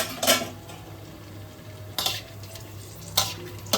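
A bay leaf, cumin, whole garam masala and dried red chillies sizzle in hot mustard oil, giving a faint steady frying hiss broken by a few sharp spoon clinks against the pan.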